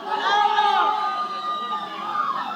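A large crowd at an ATM opening cheers and shouts in a dense, continuous roar of raised voices, close and loud for the whole stretch.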